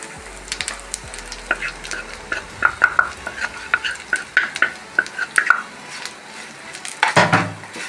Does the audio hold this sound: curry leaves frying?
yes